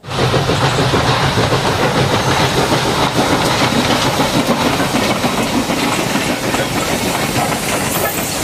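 A toy train gives a loud, continuous rumble with rhythmic clattering and a hissing, steam-like wash that holds steady from start to finish.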